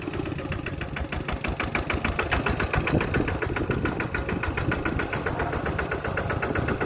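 A motorcycle engine runs continuously while being ridden to carry a sack of rice home, a steady rapid thumping drone with constant loudness and no one talking.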